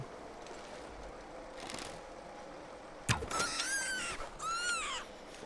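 Birds calling in the survival video game The Long Dark, a few bright chirping and whistling calls after a sudden rustle, fairly close, over quiet wind ambience with no talk.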